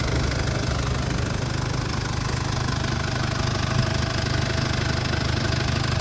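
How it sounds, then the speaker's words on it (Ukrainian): A 2020 Mercedes-Benz Sprinter van engine idling steadily and evenly, a continuous low rumble with no revving, close to the microphone. "Двигунчик працює ідеально, рівненько."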